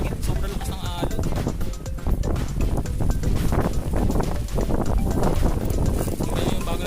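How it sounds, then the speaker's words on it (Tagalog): Strong wind gusting hard at a fishing pond, buffeting the microphone in a loud, rough rumble throughout, with someone talking under it. "Sobrang lakas ng hangin."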